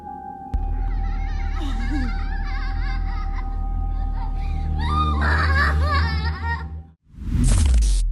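Goats bleating in a viral outdoor encounter, wavering cries over a constant low rumble and background noise, ending in a brief loud burst.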